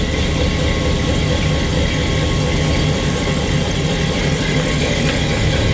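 A 1966 Impala engine, revived after sitting over seven years, runs steadily up close in reverse, a constant rumbling idle with a low mechanical drone throughout and no voices.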